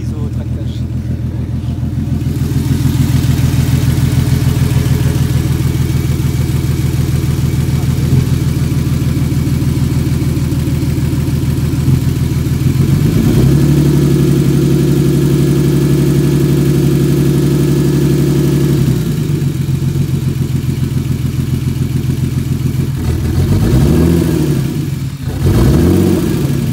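A turbocharged BMW E36 engine with its rear silencer missing runs loud and raw, close by, holding a steady idle before climbing into sustained revs midway and blipping again near the end.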